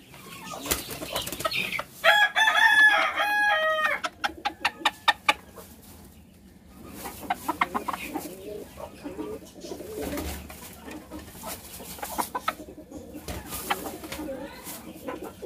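Chickens clucking and cooing with bursts of fluttering wings, a rooster among them, some calls close and loud, others softer, amid a busy yard with a voice now and then.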